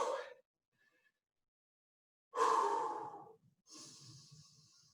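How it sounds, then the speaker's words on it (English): Deep breaths are drawn and released during a stretching workout, a short exhale, a pause, then a long heavy breath and a softer airy one, close and clear with no talking. "Try and take deep breaths right from the belly up into your chest."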